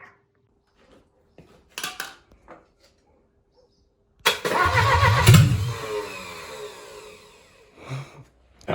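A Mercedes W115 engine, fed by a fuel pump from a jerry can, cranks after brief clicks, then catches into a loud rough run for a few seconds before dying away and sputtering again.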